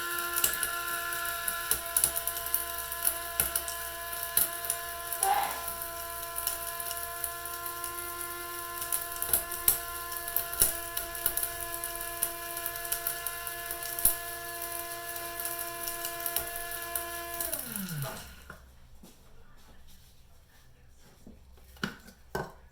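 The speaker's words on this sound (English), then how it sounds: "It needs to grind up a little more." Seasoning ground in an electric grinder, a steady loud mechanical whir with a constant tonal hum that runs for about eighteen seconds and then cuts off, leaving near silence.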